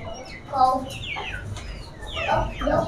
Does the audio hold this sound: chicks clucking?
yes